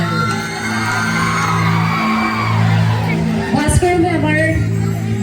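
A crowd at a Bihu program stage show welcomes a singer with whoops, yells and cheering over a loud sustained hum, and the crowd noise swells near the end.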